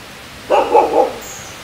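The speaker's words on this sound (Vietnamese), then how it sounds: "hôm nay gặp nguyên ổ chó đâu ở trong rừng vậy trời." A dog barks in a forest during a night walk near an old grave, giving a quick close burst of three or four yapping barks against a quiet background.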